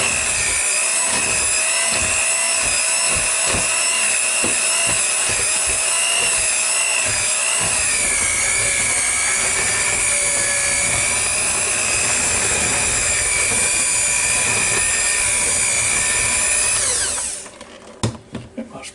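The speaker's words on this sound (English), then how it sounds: "Now I'll take my mixer here, put it in here, and get going with them." An electric hand mixer whirs steadily while mashing roasted garlic potatoes, a loud sustained whine with some clattering in the bowl early on, then it stops abruptly near the end.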